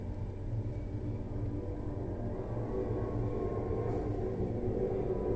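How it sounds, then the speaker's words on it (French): Steady low roar of an airplane passing, heard through an open right-hand window casement, continuous and fairly distant with no voices. "Le deuxième bruit que nous allons écouter est celui d'un avion."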